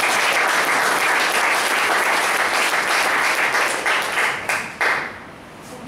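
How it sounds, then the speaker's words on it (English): A room of people at a Toastmasters meeting breaks into full applause, dense and loud from the start, then thinning and tapering off near the end. "So can we give Toastmaster Shravan a big round of applause?"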